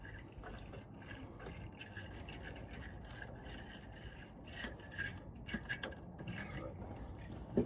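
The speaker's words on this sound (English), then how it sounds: "We're gonna be going up and down on the terminal end, which isn't gonna clean it as good" A brush scrubs the terminal of a car battery in quiet, rapid rasping strokes, close up, growing a little louder and more uneven toward the end.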